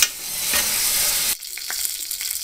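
A cheburek pastry with meat filling fries in shallow oil in a pan, a loud dense sizzle that abruptly drops to softer crackling and popping partway through, no talk.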